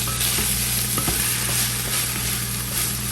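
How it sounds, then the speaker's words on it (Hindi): Chicken tossed with spices, white pepper and chili sauce in a hot sizzling pan for chicken pasta, a continuous loud fry hiss with occasional scrapes and clicks of a spatula, up close. "अब ये अच्छे से करेंगे मिक्स ताकि हमारे मसाले जो हैं इसके अंदर अच्छे से रच बस जाएं।"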